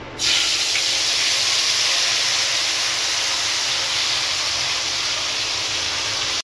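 Onion, ginger and garlic paste drops into a hot pan for Bengali-style chicken curry, setting off a sudden loud, close sizzle that holds as a steady, dense hiss to the end.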